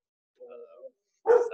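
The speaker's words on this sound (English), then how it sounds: "Sorry, my dog." A dog barks twice in the background of a home call, a short muffled bark followed by a louder, sharper one, both brief and fairly close.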